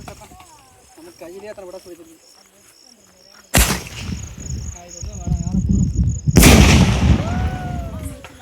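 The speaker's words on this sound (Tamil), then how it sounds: "கோன் பட்டாசு மக்கள்" Two sharp, loud blasts of a cone firecracker going off a few seconds apart during Diwali, with people talking and crickets chirping around them.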